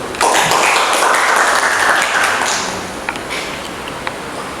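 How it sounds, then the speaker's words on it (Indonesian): Classroom applause for a student's answer in an electrical installation lesson, a burst of clapping that starts loud and fades out over a few seconds. "Silakan kita kasih tepuk tangan dulu."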